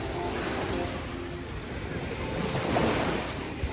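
Ocean surf and wind at South Beach, Miami: a steady wash of breaking waves mixed with gusty wind buffeting the microphone, swelling slightly near the end, with no speech.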